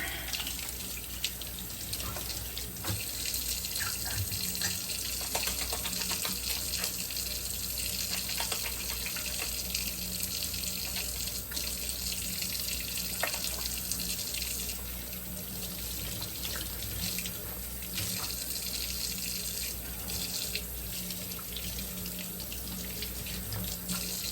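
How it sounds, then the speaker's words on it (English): Steady tap water runs into a kitchen sink during hand washing while holiday dinner is prepared, a continuous close rushing flow that holds for the whole stretch without talk. "I'm going to get my hands washed here"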